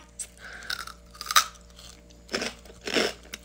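Close, loud crunching and chewing of crispy, spicy mochi rice nuggets, with several distinct bites and crackly chews spread across the moment.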